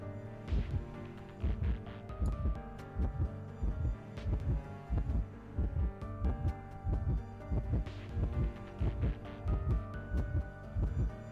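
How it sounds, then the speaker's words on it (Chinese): A heavy heartbeat effect from the video game Identity V thumps in a steady, loud double-beat rhythm over a low hum, repeating throughout with no talking. "是不是心跳结束之后我才能出去？"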